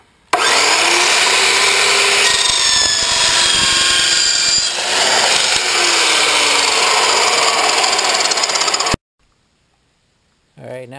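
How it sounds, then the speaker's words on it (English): A power tool cuts metal tubing for a Jeep TJ lower control arm, a loud continuous grinding whine lasting about nine seconds before stopping abruptly. "So now I get ready to cut it."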